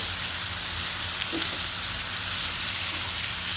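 Large pieces of hilsa fish about 1.5 kg in size fry in spice paste. The sizzle is steady and close, a constant hiss with no talking.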